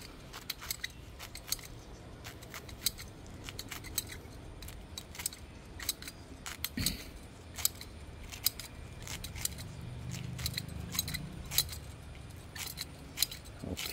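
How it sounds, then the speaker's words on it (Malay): Scissors snip medicinal plants into small pieces before pounding, giving many sharp, evenly repeated clicks close by over a quiet background with no talking. "Kita gunting untuk nak mudah tumbuk ya."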